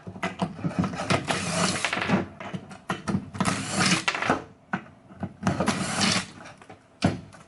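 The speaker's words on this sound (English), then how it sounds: "Alright, I'm going to take the nozzle off." Nozzle being removed from a Tube Potter, giving a series of close mechanical clicks, ratcheting and scraping in bursts separated by short pauses.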